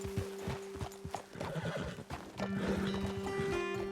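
Horses in the video game Red Dead Redemption 2 make steady, close hoof clip-clops, and a whinny rises clearly near the end over a low background hum, with no talking.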